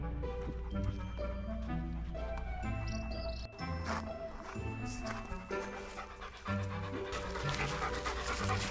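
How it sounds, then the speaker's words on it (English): A dog pants rapidly in July heat on an island walk, a quick breathy rhythm running under steady background music throughout. "You can probably tell by the panting, but it's July, and it's hot."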